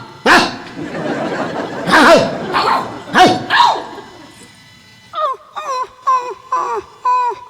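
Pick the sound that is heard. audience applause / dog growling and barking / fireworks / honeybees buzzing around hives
dog growling and barking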